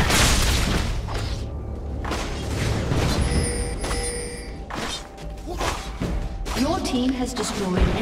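An inhibitor being destroyed in League of Legends: a heavy boom and thud followed by shattering and mechanical crumbling sounds, loud and layered under the game's announcer voice.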